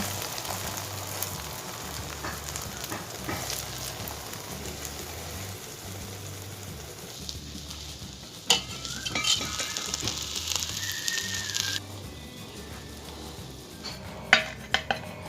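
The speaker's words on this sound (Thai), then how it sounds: "ทอดให้เหยียดสุกแล้วก็กรอบดีนะคะ" An oyster mushroom omelette deep-fries in hot oil with a steady, rain-like sizzle. Metal utensils clatter against the pan, and a few sharp clinks stand out near the end. No one speaks.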